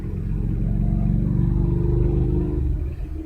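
A motorcycle passes by outside, heard as a muffled low engine rumble that swells steadily for a few seconds and then fades away.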